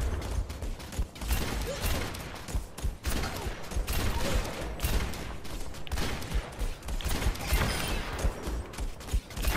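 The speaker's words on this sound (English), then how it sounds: "This will also throw dynamite and then take a little single shot for it." In the video game Overwatch, Ashe throws dynamite and fires single shots, giving a dense run of sharp cracks and mechanical clacks with bursts of explosive rumble, steady and busy with no speech.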